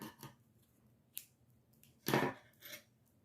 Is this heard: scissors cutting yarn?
yes